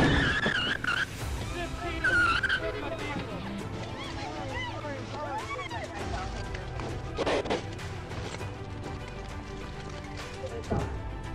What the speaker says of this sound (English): backing over a steep embankment to escape, with the tires squealing all the time